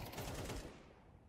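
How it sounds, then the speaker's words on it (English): A brief, faint burst of rapid gunfire in Counter-Strike 2, dense shots fading out within about a second. "Good shot from Victor"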